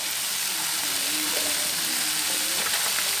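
Sea snails stir-fried with lemongrass and chili in a pan, a steady loud sizzle with faint stirring scrapes running throughout.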